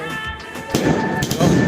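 Fireworks bursting with a sharp crack followed by a second pop, close and loud over a steady background hum.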